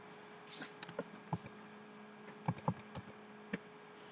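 A command is typed on a computer keyboard at a command prompt: about a dozen sparse, crisp key taps in irregular clusters over a faint steady hum, with no talking.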